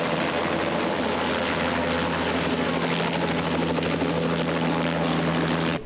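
A helicopter offering rides from a hill in Rio de Janeiro flies with a loud, steady rotor drone and engine whine. The sound is continuous and fairly close, with no voices over it.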